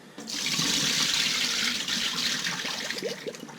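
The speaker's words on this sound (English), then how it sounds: "All right, gave it one last rinse." Fish being rinsed under running water from a tap, a steady close rush of flowing water lasting a few seconds and easing off toward the end, with no talking.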